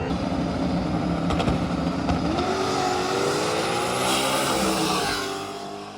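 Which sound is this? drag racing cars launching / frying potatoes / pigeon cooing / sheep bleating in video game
drag racing cars launching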